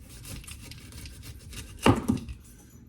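A knife slices through the base of a pineapple on a cutting board, a short firm crunching cut with a second scrape just after, close and fairly loud over quiet room noise.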